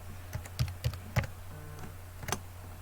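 A password goes in on a computer keyboard as a handful of light, quick key taps, irregular and close, with a short pause before a final pair of clicks against quiet room hiss.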